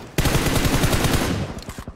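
Rapid automatic gunfire in PUBG Mobile, a loud sustained burst of closely spaced shots that fades into a few scattered reports before stopping.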